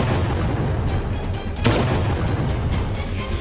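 Iranian missile barrage on Israel: a continuous loud, rumbling roar with a sharper boom in the middle, heavy low-end noise throughout and no talking.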